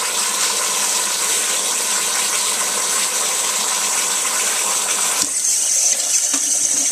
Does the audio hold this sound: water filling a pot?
yes